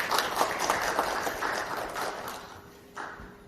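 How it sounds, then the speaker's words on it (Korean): Audience applause at a UAM industry seminar in a university colloquium hall, steady clapping for a guest introduction that fades toward the end. "박수 부탁드립니다"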